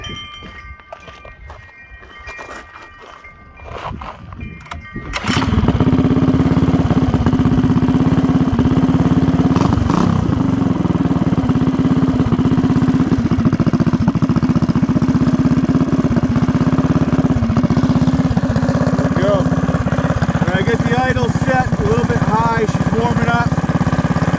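A Predator Hemi 212 small engine with a newly installed head, unhooked from any torque converter, catches after a few seconds of quieter sounds, then idles steadily and loudly, with faint talk near the end.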